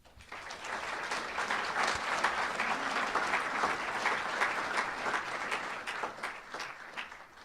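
Sustained applause from a large crowd at a college athletic hall of fame induction ceremony, dense and steady clapping that swells quickly and holds for several seconds before tapering slightly.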